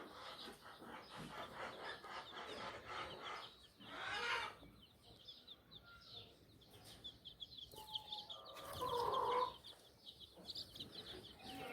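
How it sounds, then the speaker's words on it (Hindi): Three-day-old baby chicks cheep with clucks and a few high cheeps scattered over a noisy background, with bursts of louder squawking near the middle and end. "आप देख सकते हैं मेरे छोटे मुर्गियों के बच्चे, आप देख सकते हैं।"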